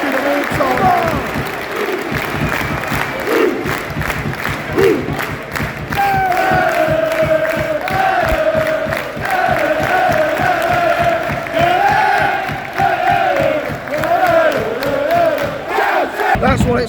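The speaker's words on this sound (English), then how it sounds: "the minute's applause impeccably done by all 4 sides of the ground" Football crowd at a Notts County match against Scunthorpe United giving a minute's applause from all four sides of the ground, a steady, dense roar of clapping and crowd noise with voices rising over it throughout.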